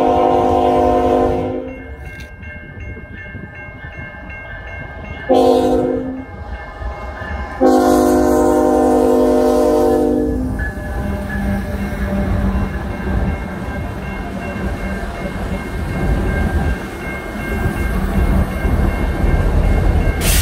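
A Canadian National freight train passes in cold weather, its loud horn sounding several long blasts before steady rumbling and rattling carry on until the end.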